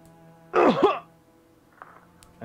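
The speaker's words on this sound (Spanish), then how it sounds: "escuchaban el sonido de alguien toser" A single brief cough or throat-clearing burst, used as a sound effect in a Halloween horror role-play, close and distinct against a quiet hum, followed by a fainter trailing noise.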